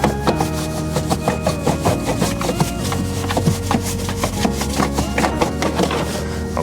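A brush scrubs a car wheel well in quick back-and-forth strokes, a steady rhythmic scratching and rubbing that is close and loud, with no talk.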